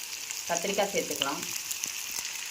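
Brinjal fries with garlic and green chilli in a pan for brinjal chutney, making a soft, steady sizzle with a short burst of stirring clatter near the start.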